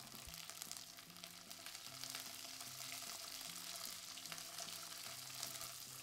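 Sausage and peppers sizzling in a hot pan over a very low flame, a soft, even frying crackle running steadily throughout with no voices.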